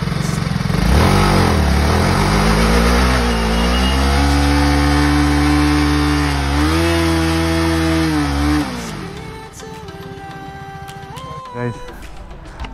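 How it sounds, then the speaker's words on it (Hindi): A motorcycle engine roars loud and close through a burnout, revving hard and holding high pitch for several seconds before dropping off, leaving a quieter idle with scattered background noise and voices. "बस ये लास्ट अटेम्प्ट था मेरे बाइक पे बर्न आउट"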